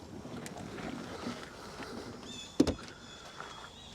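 A car door latch on a 1953 MGTD replica built on a Volkswagen chassis, opened by pulling its lever: one sharp, close click and thunk over a low, steady background hum.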